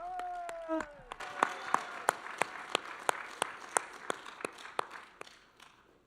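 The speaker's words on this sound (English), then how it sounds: "Give him one more big round of applause, folks." An audience claps for a singer at a charity show, a steady run of sharp, fairly even claps from a small crowd that swells after a brief spoken opening.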